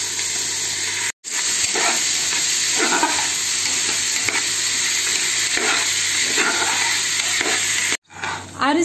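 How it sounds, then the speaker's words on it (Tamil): Rice being sautéed in ghee for Pernambut-style mutton biryani sizzles and hisses steadily in a pot, with repeated scraping stirs at an even rhythm, close and fairly loud, briefly cutting out twice. "அரிசியை நம்ம நெய்யில் வதக்கணும்"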